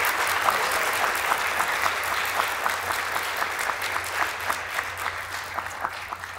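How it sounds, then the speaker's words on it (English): An audience claps for an award winner announced at a lifetime achievement award ceremony, a steady sustained round of applause filling the room, with a few louder individual claps standing out near the end. "let's clap and then I'll tell you"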